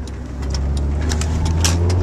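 A car engine hums steadily at low pitch while driving, with a continuous interior rumble and light higher ticks and rattles over it, no voices.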